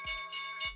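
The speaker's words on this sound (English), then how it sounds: "there's our opening bell" Trading floor opening bell ringing on a futures exchange, a steady, bright electric tone pulsing in three quick, loud strokes.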